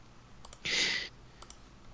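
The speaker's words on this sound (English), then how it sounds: "I hear you tapping mana through the microphone. You're clicking on something." Quiet mouse clicks during an online Commander card game: two quick pairs of sharp clicks with a brief soft hiss between them, set against a near-silent room.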